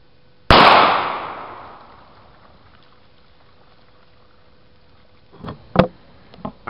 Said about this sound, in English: Fired at a distance of 15 feet through 4 layers of denim using a Taurus TCP.